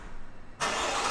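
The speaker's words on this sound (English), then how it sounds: "What you can do to start up the car is press this on the key" A car engine started by a button on the key, a quiet lull then an abrupt catch into a loud, steady idle.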